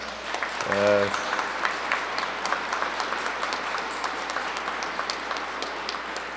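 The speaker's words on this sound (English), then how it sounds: "I'd like a big round of applause for all the cadets." An outdoor crowd at a Remembrance Day parade applauds Royal Canadian Air Cadet squadrons, steady scattered clapping at moderate distance, with a brief low horn-like tone near the start.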